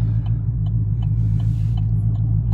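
A 2015 Chevrolet Silverado with a Borla ProXS muffler and single 3-inch pipe feeding dual tips idles at a light, holding a steady deep exhaust rumble with faint rhythmic pulses.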